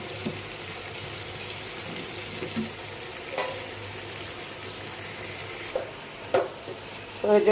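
Potatoes are stirred into a fried spice paste in a pan, with a low steady sizzle under a few scraping spoon strokes and clinks scattered across the stretch, near and fairly quiet.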